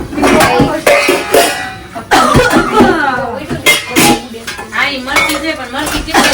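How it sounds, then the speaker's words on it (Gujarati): Steel dishes and pots clattering and clinking as they are wiped and stacked in a home kitchen, loud and close in irregular bursts, with people talking and someone coughing over the clatter. "વાસણ લૂછી નાખ્યા છે"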